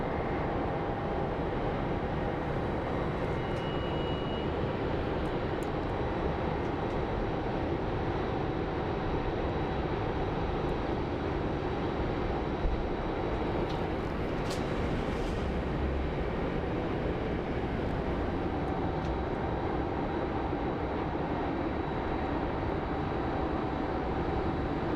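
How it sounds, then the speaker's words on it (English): Southwest Airlines jet arriving from Midway at Phoenix Sky Harbor airport, a steady broad roar of engine noise holding at an even level throughout, no voices present. "let's go take a look at our Southwest Airlines coming from Midway"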